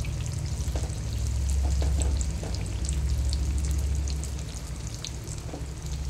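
Mirchi bajji, battered chilli fritters, fry in hot oil with a dense steady sizzle and scattered crackling pops close by, swelling a little in the middle and then settling, with no one talking.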